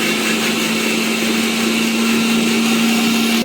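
An electric kitchen grinder blends onion and ginger into a paste for a tilapia fish curry, giving a loud, steady motor whine with a constant pitch that runs unbroken throughout, with no voices.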